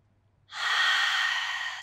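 A single long, breathy exhale during a Pilates spine mobility exercise, close and fairly loud, starting abruptly after a quiet moment and sustaining evenly with a soft airy hiss and faint low hum beneath.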